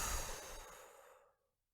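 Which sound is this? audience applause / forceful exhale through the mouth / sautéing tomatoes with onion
forceful exhale through the mouth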